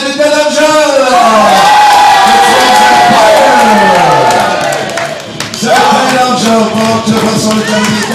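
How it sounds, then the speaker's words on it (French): A wrestling event crowd roars and shouts as the wrestler Dead Angel makes his entrance, loud overlapping yelling and cheering voices that dip briefly before surging again. "Je vous demande d'applaudir l'entrée du Dead Angel."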